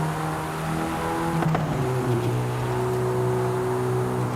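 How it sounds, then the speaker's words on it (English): A car engine hums steadily nearby, its pitch rising and shifting as it revs, with one brief sharp backfire crack partway through. "I cannot get over how good this car sounds."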